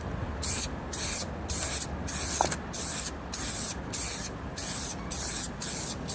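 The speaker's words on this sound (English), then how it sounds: "replace spray nozzle, spray." An aerosol spray paint can hisses in short, close bursts, about ten pulsed sprays in a row with brief gaps between them.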